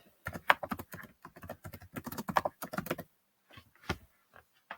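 Rapid clicking of keys on a computer keyboard, bursts of quick taps with a short pause before a few final keystrokes, close and clear.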